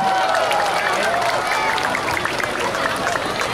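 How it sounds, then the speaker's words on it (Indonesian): Children clapping outdoors at a National Children's Day event in Indonesia, a dense, steady patter of many small hands sustained throughout, with voices and cheering mixed into the crowd noise. "Tepuk tangan dong semuanya."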